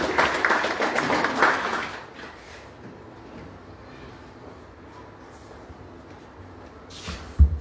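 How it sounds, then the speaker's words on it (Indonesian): A crowd at a church-style work meeting applauds steadily for about two seconds, then the clapping fades into a quiet room hum, followed by a short knock near the end. "Kita tepuk tangan lagi beri ya buat Tuhan Yesus"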